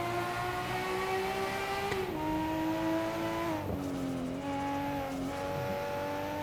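Nissan Skyline R34 GTR engine in the racing game Assetto Corsa, a steady high drone rising and falling through gear changes, loud and continuous with no talk.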